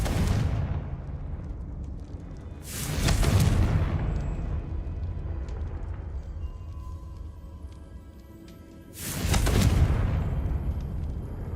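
Confringo fire spell explosions in Hogwarts Legacy: two heavy booming blasts about six seconds apart, loud and broad, over a rumbling game background with no talk.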